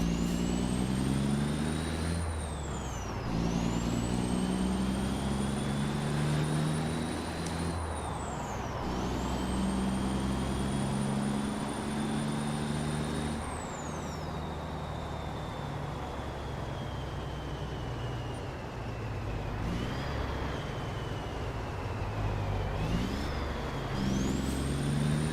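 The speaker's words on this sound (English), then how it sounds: "And that's full brakes." A heavy truck in American Truck Simulator, driving on snowy Canadian roads, with a steady engine drone and loud repeated air-brake hisses and whines rising and falling through the stretch.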